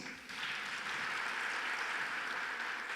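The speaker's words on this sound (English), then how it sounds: "Let's once again greet each other with a round of applause," Steady, moderately distant applause from the audience at an international youth forum on sustainable nuclear technologies in Alexandria, starting after a brief quiet moment and holding evenly.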